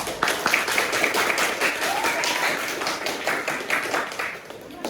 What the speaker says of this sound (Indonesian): Tepuk tangan untuk teman yang sudah mempresentasikan jawabannya.